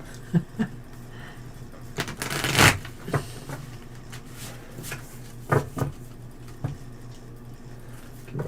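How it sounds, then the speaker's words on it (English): A deck of 78 tarot cards is riffle shuffled by hand, giving several quick crisp fluttering bursts and soft taps spaced through a quiet room. "One more good riffle"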